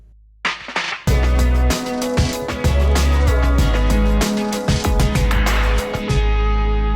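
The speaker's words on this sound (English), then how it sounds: "Then many companies want a sting mix" Short sting version of a music cue: a full, bright band arrangement enters after a brief lead-in, then drives steadily for several seconds before cutting off.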